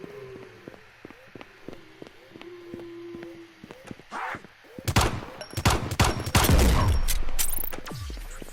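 Rifle gunfire in the Roblox video game: after a stretch of quiet, regular ticking steps, loud rapid volleys of shots burst in and keep going for several seconds before fading.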